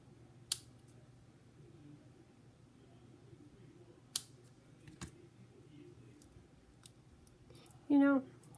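Scissors cut through card in a handful of sharp, isolated snips spaced seconds apart, faint and close, over a quiet room.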